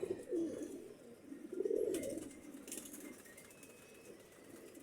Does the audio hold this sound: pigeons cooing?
yes